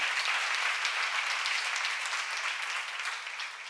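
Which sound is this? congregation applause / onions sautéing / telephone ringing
congregation applause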